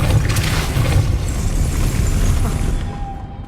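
The Depulso force spell cast in Hogwarts Legacy, a loud rushing boom that holds steady before tailing off, with no voice over it.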